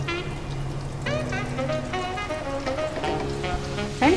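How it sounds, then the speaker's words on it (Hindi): Potato kebabs sizzle and crackle steadily in hot oil, a close, continuous frying hiss with small pops and faint clinks throughout, no voices. "फ्रेंड्स हमारे आलू कबाब फ्राई हो गए, इसको हम निकाल लेंगे।"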